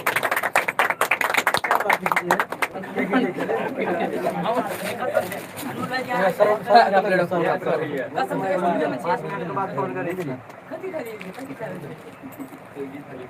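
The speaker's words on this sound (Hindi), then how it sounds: "बस ताली और जोर से ताली मारो सब आदमी" A small group clapping at a birthday gathering, brisk sharp claps at the start that give way to loud overlapping chatter and voices, with scattered taps continuing underneath.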